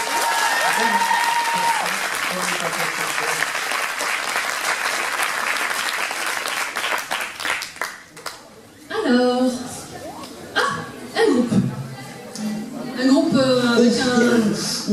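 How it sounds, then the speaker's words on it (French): Audience applause at a cosplay parade in Dijon: sustained clapping fills the first several seconds, then fades into a host talking over scattered crowd noise. "on peut encore l'applaudir"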